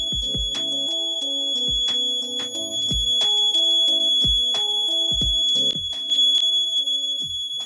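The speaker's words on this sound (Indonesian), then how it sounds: "saat hujan tiba dan membasahi sensor, maka buzzer akan berbunyi sebagai petanda atau alarm turunnya hujan" A buzzer rain alarm on a smart home prototype sounds alone in a quick, irregular series of sharp electronic beeps and chirps, loud and close, with a thin steady tone running underneath.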